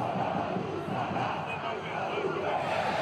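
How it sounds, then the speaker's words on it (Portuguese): Stadium crowd in a football video game chants and roars continuously, a dense, steady wall of fan singing with no pauses. "a torcida tá cantando, a torcida tá empolgada"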